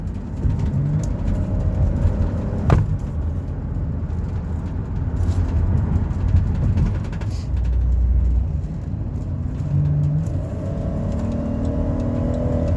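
A 2015 Dodge Caravan wheelchair mobility minivan accelerates up to highway speed, its engine drone and road rumble rising steadily inside the cabin as the gears change, with no talking.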